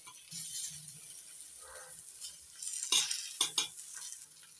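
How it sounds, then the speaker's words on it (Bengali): Spiny gourd pieces sizzle in a pan, a quiet frying hiss broken by a few sharp scraping stirs and metallic clinks near the end, close to the pan. "আর একটু ভেজে নিতে হবে।"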